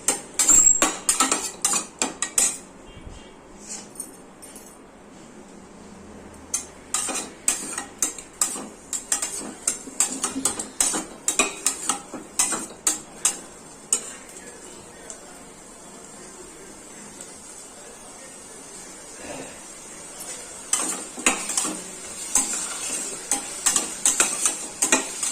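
Chicken gravy ingredients stirred in a pan, a spoon scraping and clinking against metal in busy bursts with a soft sizzle underneath, close up, continuing steadily with brief pauses.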